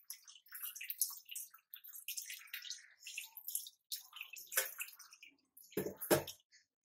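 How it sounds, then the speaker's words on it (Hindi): Plain water is poured over freshly made homemade paneer and worked through by hand, giving quiet, close splashing and trickling in short bursts with drips between them, ending in a couple of fuller splashes. "सादा पानी डालकर धोएंगे, जिससे कि नींबू की खुशबू नहीं रहे इसमें"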